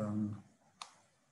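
A single soft computer mouse click, sharp and brief, just after a voice trails off, then quiet.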